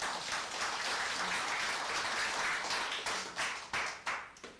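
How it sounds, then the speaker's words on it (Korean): Audience members at a Korean business lecture clap together in a steady, dense burst that breaks into a few separate loud claps as it dies away. "박수 한번 쳐야죠"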